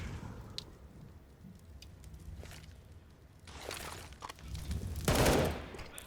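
Gunfire in Counter-Strike during a pro league match: scattered single shots early, then bursts of automatic fire growing louder toward the end, with a heavy close burst near the finish.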